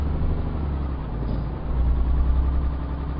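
A truck engine idles in a truck driving video game, a steady low rumble that swells slightly partway through, heard alone and fairly close.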